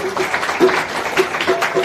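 Church congregation clapping during a Hindi-language sermon, a steady wash of hand claps filling the space, moderately loud with a few voices rising briefly over it.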